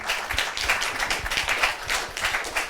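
Audience applause at a political conference plenary session, sustained clapping from a sizeable crowd, even and fairly loud, with no talking.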